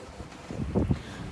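Wind of about 20 knots gusts over a sailboat at sea, some 120 miles from Horta, with a few low, rumbling bursts buffeting the microphone.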